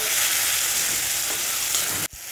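Onion, tomato, salt and turmeric frying in a pan for a Bengali potol curry, producing a loud, dense, continuous sizzle that cuts off abruptly near the end, with no talk.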